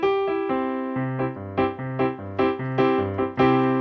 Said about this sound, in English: One of them is called a major chord.